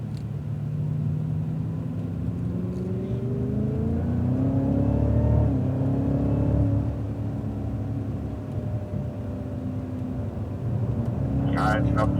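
A Cadillac CTS-V on a race track powers out of a corner, its engine note climbing steadily in pitch through a long, loud acceleration with a continuous rumble underneath, close and sustained throughout.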